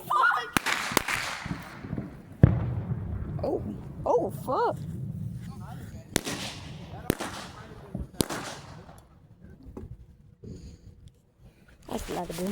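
Backyard fireworks for an American Independence Day celebration crack and pop in sharp, irregular bangs, with some whistling rockets, fairly close, while people talk and exclaim between the blasts.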